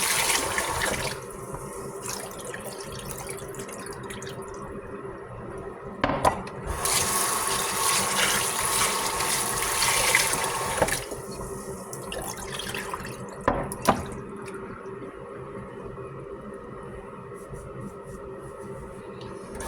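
Rice is washed under running water, a steady close splashing and rushing from a tap with louder surges of pouring in the middle and a few sharp clinks of grains and pot.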